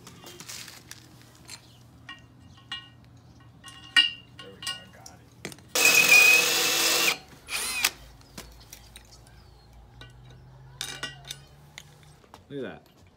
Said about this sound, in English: You probably would need some power tools, and that's just to make the holes inside of the rail.